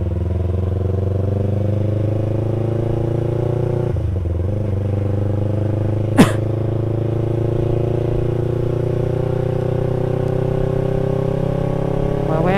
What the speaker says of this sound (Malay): Ada yang balap motor,